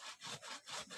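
Hand saw cutting through wood in a rural setting, a quick rasping back-and-forth rhythm of about four strokes, close and clear.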